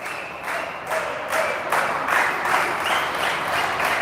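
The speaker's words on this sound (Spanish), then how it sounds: "Empieza a aplaudir la hinchada de Barracas." Fans at a women's futsal playoff match clap in a rhythmic, evenly spaced beat, about two claps per second, echoing across the indoor arena with a low crowd murmur beneath.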